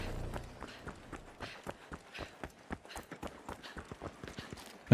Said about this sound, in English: I can hear footsteps behind me.